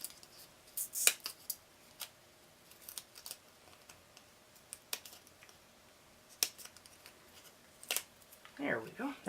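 Scissors snipping away dimensional adhesive backing at a crafting table for an art journal, a series of sharp, close crisp cuts in irregular bursts, fairly quiet, with a rustle of paper near the end.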